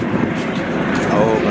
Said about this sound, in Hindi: ये पूरे पहाड़ इधर से हेलीकॉप्टर हमेशा ही चलता ही रहता है